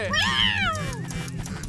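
A cartoon cat lets out one long, drawn-out meow that rises then slides down, loud and close over a low background score, with no talk.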